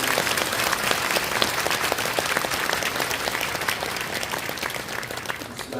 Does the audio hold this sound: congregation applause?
yes